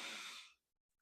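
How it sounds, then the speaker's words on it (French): A deep breath taken in during a guided relaxation, one long soft airy inhale lasting about half a second before fading to quiet. "on prend une grande respiration, on inspire"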